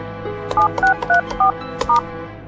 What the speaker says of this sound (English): To listen to your messages, enter your password and press the star key.